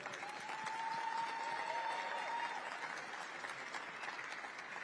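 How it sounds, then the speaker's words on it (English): An audience at a congressional panel event claps steadily in a large room, a dense, even wash of applause heard from a distance that holds for several seconds with faint voices underneath. "give them a round of applause"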